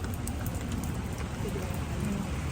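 Steady rain falls on an outdoor morning market, a dense, even hiss with light patter throughout and no voices in the foreground.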